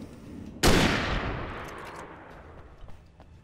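A single loud shotgun blast in the video game Alan Wake Remastered, a sharp close crack that rolls off into a long fading echo over a few seconds.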